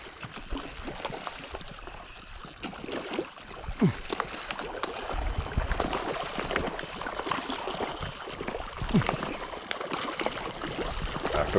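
Striped bass splash at the surface of Castaic Lake during a feeding boil, a steady wash of watery splashing and sloshing that stays close and constant throughout.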